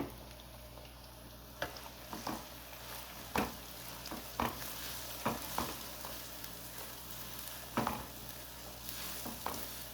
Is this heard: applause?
no